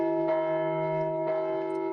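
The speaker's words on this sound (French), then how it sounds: "Les cloches de la ville carillonnèrent à toute volée." Town church bells ring out in full peal, a steady sustained metallic tone with two fresh strikes about a second apart, alone and moderately loud.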